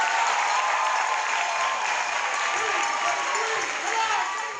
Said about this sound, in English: let's give a big round of applause to all of our teachers and principals in this room